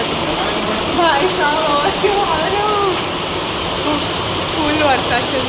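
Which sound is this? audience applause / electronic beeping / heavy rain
heavy rain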